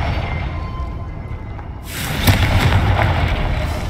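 A Confringo spell explosion in a Harry Potter video game, heard as a sudden bright burst of crackling noise that follows a quieter ambient stretch and then holds as a sustained rumbling blast.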